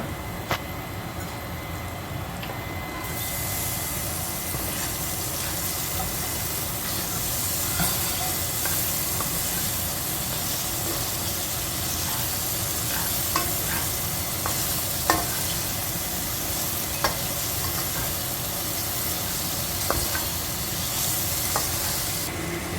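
Olives and broccoli frying in a pan with a little salt, a steady close sizzle and hiss that brightens after a few seconds, with occasional scraping and stirring clicks.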